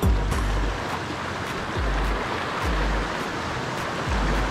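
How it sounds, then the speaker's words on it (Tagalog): Strong ocean waves at a cave campsite in Mauban, Quezon, crashing in repeated loud surges every second or so over a constant roar of surf, close by and with no voices. "Yung laka ng alon."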